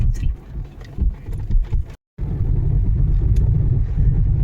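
A car travelling along the Ghoti highway, heard from inside the cabin as a steady, loud low rumble of engine and road noise, broken by one short dropout.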